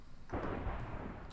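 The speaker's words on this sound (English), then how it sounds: "Ooh, thunder." Deep rumbling thunder, likely from an in-game storm in a GregTech: New Horizons Minecraft session, rolls in suddenly and booms broadly for about a second before fading, moderately loud with no talk over it.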